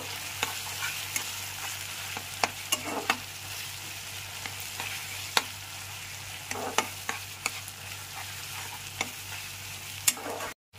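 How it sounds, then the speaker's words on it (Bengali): Cheese is stirred into Indian-style masala macaroni pasta in a pan, with a soft sizzle throughout and a scattering of crisp spoon clicks and scrapes at irregular intervals. "চিজটাকেও খুব ভালো করে মিশিয়ে দিতে হবে।"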